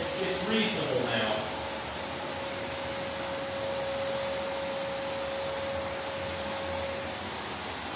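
A Prolux X8 Elite backpack vacuum cleaner runs with its suction relief fully open, giving a steady, loud, close whooshing roar with a thin constant whine; a person talks briefly at the start.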